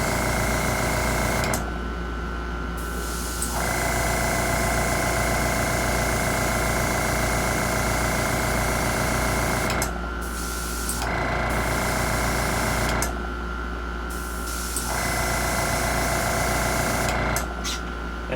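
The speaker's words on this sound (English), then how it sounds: "Now we're going to spray our gold." An airbrush sprays gold paint onto a model nacelle, steady hissing in repeated bursts of several seconds each, with brief pauses between passes, over a constant low mechanical hum.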